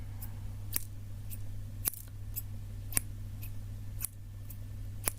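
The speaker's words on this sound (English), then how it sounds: "And remember the sound, the cutting sound." Scissors snip in a steady series of sharp, crisp cuts about once a second, close and clear over a low constant hum, with no voices.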